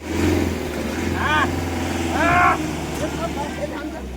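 The engine of a stuck vehicle rumbles steadily and swells into a revving surge near the end, heard close and moderately loud under people talking in the background.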